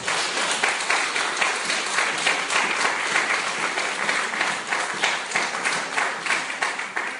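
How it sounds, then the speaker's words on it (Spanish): A crowd claps steadily in sustained applause, a dense wash of hand claps holding at an even level throughout. "un aplauso al Rey"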